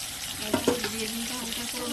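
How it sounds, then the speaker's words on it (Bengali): Eggplant pieces seasoned with salt and turmeric sizzle in hot oil in a wok, a brief crackling fry with a couple of louder spits early on. "কড়াইতে তেল দিলাম তারপর বেগুন দিলাম একটু নুন হলুদে দিয়ে দিলাম হালকা করে ভেজে নেব"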